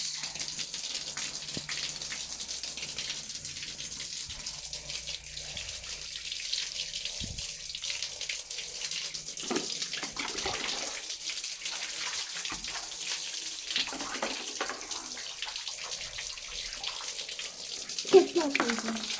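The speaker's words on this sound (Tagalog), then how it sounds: "Okay, so ilalagay natin may sabon sa tubig." Tap water runs steadily while hands are washed with soap, a continuous hiss and splash at close range, with a person talking intermittently over it.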